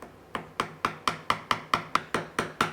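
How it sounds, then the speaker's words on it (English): A wide, freshly sharpened chisel tapped to cut half-blind dovetails in wood, giving about ten small, evenly spaced sharp knocks in a steady rhythm, close and clear with no talking. "So with a nice wide chisel, freshly sharpened edge, very small taps with this."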